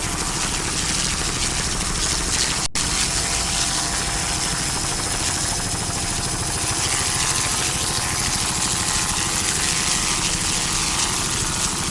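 Helicopter flying over an offshore powerboat race, a loud, constant rotor and engine roar that fills the whole stretch without letting up, close by and steady, with no voices.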